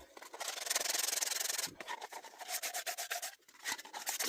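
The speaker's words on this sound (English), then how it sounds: "Oh, I gotta sand these. There are definitely burrs on them." Sandpaper rubs burrs off the cut ends of copper drain pipe in quick, close, rhythmic back-and-forth strokes, with a short pause partway through and no talking.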